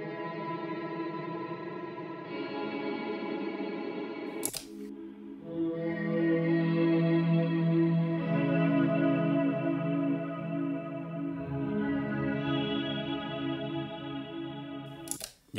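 Guitar through a modulated hall reverb, either the HX Stomp's Dynamic Hall or a JET Revelation pedal: sustained chords wash into a shimmering, wavering tail, with a sharp click before a second strummed chord that rings on and slowly swells.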